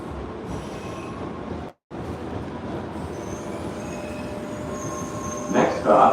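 An MBTA Red Line train at night with its wheels squealing, a steady loud rumble and screech close by throughout, rising into a sharper high squeal near the end, with a brief dropout partway through.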